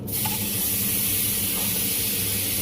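Ground beetroot sautéing in hot ghee gives a loud, continuous sizzling hiss close up, steady throughout with no talk.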